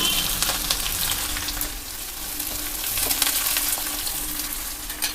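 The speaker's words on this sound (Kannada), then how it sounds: "ಸಾಸಿವೆ ಸಿಡಿತಾ ಇದೆ" Mustard seeds splutter and crackle steadily in hot oil at the start of an idli tempering, a dense, continuous sizzle with scattered pops throughout, close and fairly loud with no talking.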